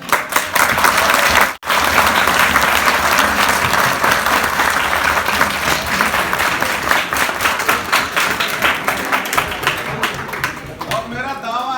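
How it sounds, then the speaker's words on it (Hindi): A college audience claps steadily and loudly for nearly twelve seconds, with a brief drop near the start, at a comedy show. "बात कोई नहीं करेगा, सिर्फ ताली बजाएंगे।"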